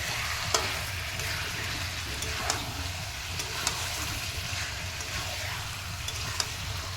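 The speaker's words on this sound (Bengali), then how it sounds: "চলো এখন এটাকে এখন কষাতে থাকি" Marinated meat coated in ground spices, ginger-garlic paste and yogurt is stir-fried for kosha, giving a continuous soft sizzle with occasional sharp utensil taps and scrapes.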